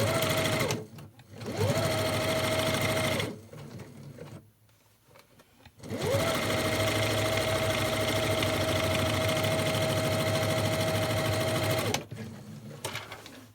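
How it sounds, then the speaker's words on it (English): Sewing machine stitching across the end of a fabric piece for a lunch bag, a steady fast mechanical whir with a high tone in two bursts, separated by a brief pause and handling noise. "Pull your fabric apart and you're going to sew across the end."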